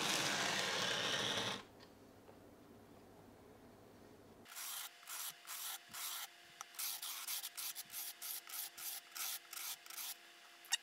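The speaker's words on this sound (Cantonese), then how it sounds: "我依家先用呢個120號砂紙再磨滑呢個側邊先" Guitar fret ends being sanded smooth with a 120-grit sandpaper block during a refret: a broad rubbing burst first, then a quick series of short, even scraping strokes, close and moderately loud, with no talking.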